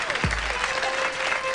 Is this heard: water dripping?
no